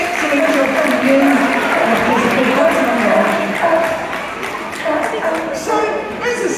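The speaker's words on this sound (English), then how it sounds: "give them both a big round of applause" A crowd claps at a sea lion show at Knowsley Safari Park, loud sustained applause with a presenter's voice over it, fading slightly toward the end.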